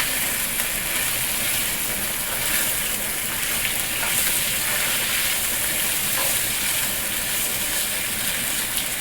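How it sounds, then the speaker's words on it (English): A pound of andouille sausage frying in a cast iron Dutch oven gives a steady, even sizzle throughout, close and continuous with no voices. "It's 1 pound of andouille sausage. We're going to cook this up."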